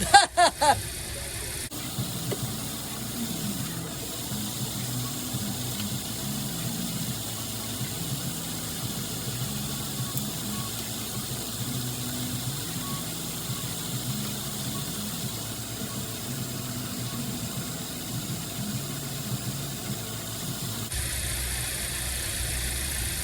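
A Chevrolet Camaro SS with a newly installed motor idles steadily, a low, even engine rumble with a faint pulsing beat, fairly close and continuous throughout.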